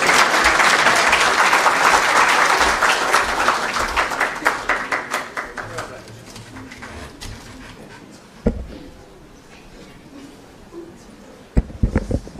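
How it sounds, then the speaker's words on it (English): Audience applause for guests at a public political gathering, a loud dense burst that gradually thins out into scattered claps and a few distinct knocks, with no voices over it. "Another round of applause for our guests this afternoon"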